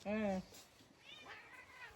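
A cat gives one clear, close meow at the start, followed by quieter, fainter mewing sounds in a calm home setting.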